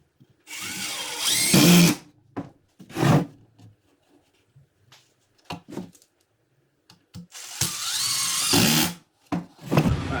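A power drill drives screws into a wooden farmhouse end table in several separate whirring bursts, two long ones and a few short pulses, loud and close with pauses between them.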